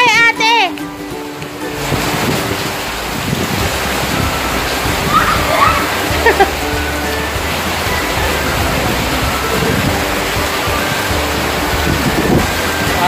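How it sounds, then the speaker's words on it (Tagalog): Heavy rain pours in a steady, loud wash of broadband noise while children splash and bathe in it outdoors, with voices calling and talking over the downpour throughout. "O, di naka-experience sila na ligo sa ulan."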